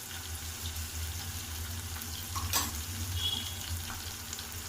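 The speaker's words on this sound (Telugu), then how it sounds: "టమాటో సాఫ్ట్ ఉడికేంత వరకు ఫ్రై చేసుకోవాలి" Tomatoes fry in a pan until soft with a steady, moderate sizzle and crackle. A brief clatter sounds about midway.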